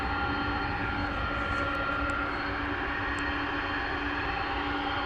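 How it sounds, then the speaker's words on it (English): A Boeing Dreamliner on its takeoff roll at DFW Airport at night gives off a constant, dense engine roar with a steady tonal whine layered through it, loud and unbroken, with no voices. "So get this big Dreamliner lumbering off into the sky."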